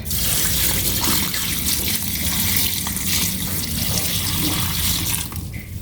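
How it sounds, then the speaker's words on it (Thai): Rice-soaking water poured into a cooking pot in a steady, loud, continuous gush that runs for several seconds and then tapers off near the end. "ใส่น้ำแช่ข้าวลงไปเลยค่ะ"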